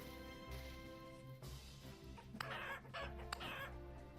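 An evil rooster in a survival video game clucks and squawks in short bursts over a constant low game ambience, with no talking.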